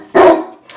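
A single loud, close dog bark bursts out and fades, followed by a faint second yelp, with no talk.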